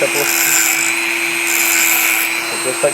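Power tool grinding down plastic hot staples during plastic welding repair, a steady high whine running continuously at close range for a few seconds with brief faint voice at the end.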